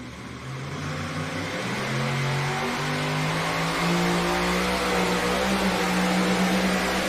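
Pulling tractor competing at an NTPA tractor pull, its engine revving hard and climbing in pitch in a loud, rising, raspy roar that swells and holds to the end, with no voices over it.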